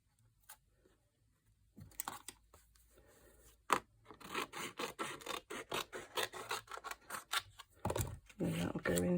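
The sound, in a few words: trimming craft card for a gift box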